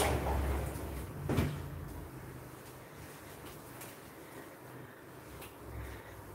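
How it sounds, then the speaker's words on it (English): A door is opened and closed nearby, giving a soft thump and a brief rattle near the start, followed by quiet room noise. "Grab that door, sorry about that."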